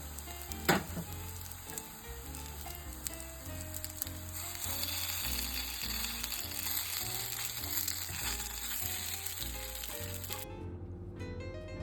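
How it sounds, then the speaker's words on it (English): Potato cakes with bacon fry in a pan on the stove, giving a steady, close sizzle and crackle that runs evenly for several seconds before cutting off near the end. "And then we're gonna fry them up on the stove."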